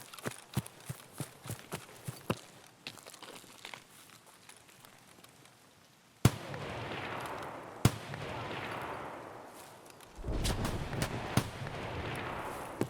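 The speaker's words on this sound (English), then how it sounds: "there's a Mosin guy shooting at something over here" Mosin rifle shots ring out in the video game Escape from Tarkov, several sharp reports spaced seconds apart among quick footstep-like clicks and a rushing rumble, with no talking.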